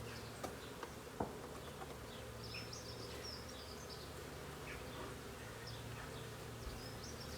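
Steady mass buzzing of many honeybees around an open hive during an early-season inspection, a dense low drone throughout with a few sharp knocks and rustles of handling.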